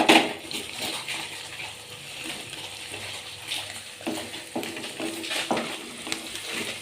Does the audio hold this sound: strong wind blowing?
no